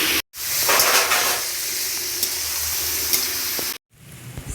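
Boiled young jackfruit hits hot oil and sets off a loud, bright sizzle. It holds steady for a few seconds, then cuts off abruptly and briefly resumes.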